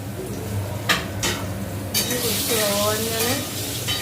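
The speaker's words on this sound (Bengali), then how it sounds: "মা পটল আর বেগুন ভাজছে" Pointed gourd and eggplant sizzle steadily in hot oil, with a utensil scraping and stirring the pan now and then.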